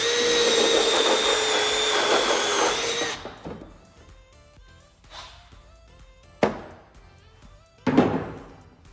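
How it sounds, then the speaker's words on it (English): A power drill bores a starter hole in a truck grill, a loud, steady whirring run for about three seconds, then stops, followed by a few separate knocks and thumps against the part. "Get me a starter hole."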